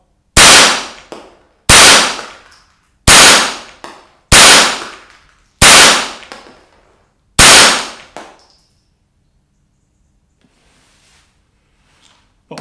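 Six loud, sharp Ruger 10/22 Competition Custom Shop rifle shots ring out at an even pace, each trailing a short decay, then quiet with faint rustling.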